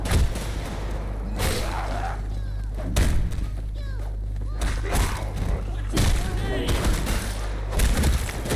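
Grenades explode in a video game: several loud, heavy booming blasts land roughly every second or two amid gunfire and shouting voices.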